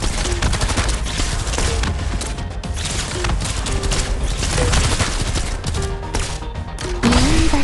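Sustained volleys of rapid gunfire from the video game Arknights, a dense and loud barrage that runs throughout with brief character voice lines layered over it.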